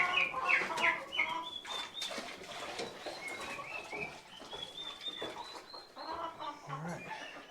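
Chickens gathered at big feeders in a coop during evening chores, clucking and chattering continuously, with overlapping calls from several birds close by at moderate volume.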